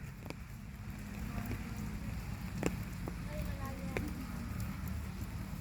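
Steady rain falls throughout on a garden in Gasan, Marinduque, a dense wash of patter with a few sharper drips, while voices murmur faintly in the background.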